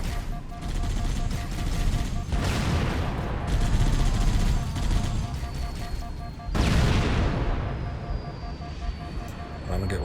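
Tank cannon fire in the video game Halo: Combat Evolved, with dense booming volleys in two loud bursts over a constant rumbling battle din, with brief talk mixed in.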